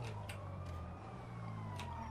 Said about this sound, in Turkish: Aha ambulans geldi.